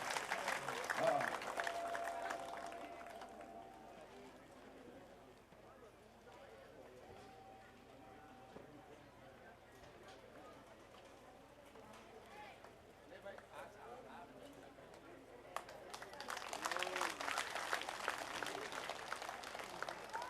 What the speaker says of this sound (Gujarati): તાળીઓનો ગણગણ જોરદાર વધારી દઈશું આપણે